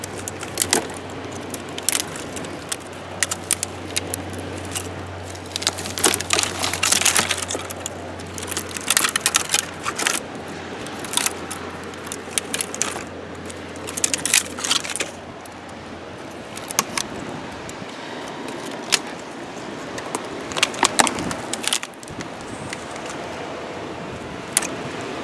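Dry twigs snapped by hand for a twig stove fire on a beach, a series of sharp close cracks and crunches arriving irregularly over a faint low hum.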